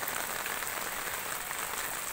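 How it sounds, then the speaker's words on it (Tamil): Rainwater running off a village house in Kollakuppam into a harvesting tank, a steady broadband hiss of flowing and splashing water that stays constant and fairly close throughout, with no voices. "பாருங்கள் எவ்வளோ தண்ணி போகுது."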